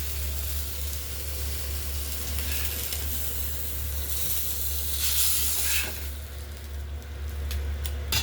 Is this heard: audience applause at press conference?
no